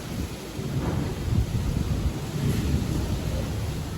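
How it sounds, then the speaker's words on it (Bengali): Dense, steady rain with blustery wind buffeting the microphone, a continuous roaring wash with low rumbling gusts and no voices. "রোদ্দুর আছে, সঙ্গে বৃষ্টি পড়ছে এদিকে, তার সঙ্গে ঝোড়ো হাওয়া"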